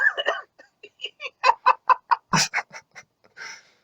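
A rooster crows loudly and close by in a rapid series of short, bright calls rising to a strained peak before trailing off, used as the entrance sound for the wrestler Red Rooster.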